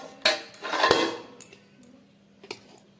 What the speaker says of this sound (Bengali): এবারে আমি একটা প্লেটে বেড়ে নিচ্ছি